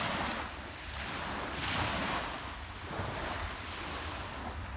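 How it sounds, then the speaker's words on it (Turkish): Sea waves wash onto a Turkish shore in slow, rolling surges, each swell rising and fading in a steady rhythm, with wind buffeting the microphone and no voices. "biz denizin sesini dinleyelim."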